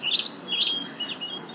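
A sparrow in an interactive storybook app gives two bright, quick chirps about half a second apart, then a fainter, shorter tweet over a soft background hiss.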